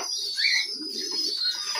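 Racing pigeons in a loft coo softly, with faint chirps and bird calls; the sound is quiet and steady throughout.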